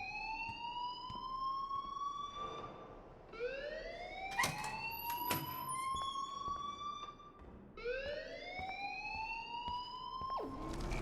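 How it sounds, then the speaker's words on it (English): In the Life is Strange video game, an electronic alarm wails in rising sweeps. It repeats three times in a steady cycle, loud and alone, with brief sharp clicks between the sweeps. "please turn off that alarm since that's your job"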